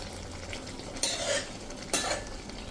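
Spiced Ratlami sev curry with dried fenugreek leaves is stirred in a pan over a low sizzle, with two distinct scraping strokes of the spoon close by and no voices.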